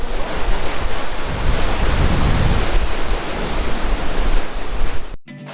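Loud, steady roar of a waterfall at Lake Superior Provincial Park, a dense unbroken rush of falling water close by that fills the whole clip before cutting off abruptly at the end.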